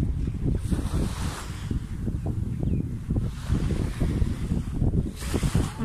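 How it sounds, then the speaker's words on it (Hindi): Strong ocean waves surge and wash at Jumeirah Beach in Dubai, a continuous rumbling surf with heavy wind buffeting the microphone, no voices. "पानी की लहर बहुत तेज है"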